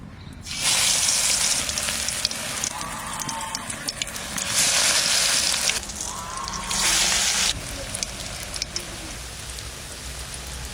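Food frying in hot white oil in a village kitchen: loud, hissing sizzle that swells in several surges and then eases, with a faint crackle throughout.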